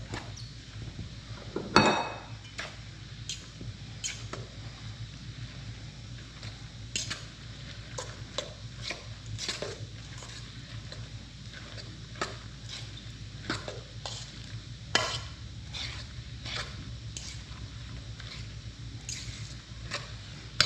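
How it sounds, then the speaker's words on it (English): A fork stirring salsa in a bowl, with repeated clinks and scrapes against the bowl, a sharp louder knock near the start and irregular tapping throughout, close and alone with no talk. "we'll just use a fork to stir that up"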